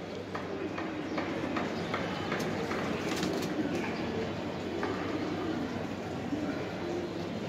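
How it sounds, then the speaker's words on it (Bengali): Iranian high flyer pigeons coo softly amid a steady hum of background noise, with faint scattered clicks and no clear talk over it. "এই এক জোড়া ইরানি হাই ফ্লিয়ার আছে, দেখেন কত লম্বা।"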